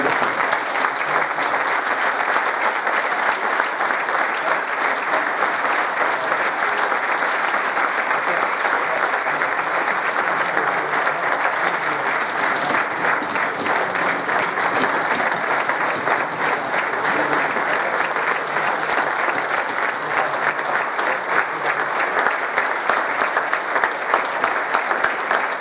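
Long, sustained applause from a large gala audience at a Mafra sports club handball event, a dense, loud, even wall of clapping that holds steady for about twenty-five seconds without letup.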